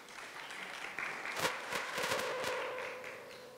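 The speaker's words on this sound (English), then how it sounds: "A round of applause for our first panelist, please." Applause for a panelist at an arts and culture panel discussion, soft and distant with a few sharper claps breaking through a quiet room hum, rising briefly and then fading.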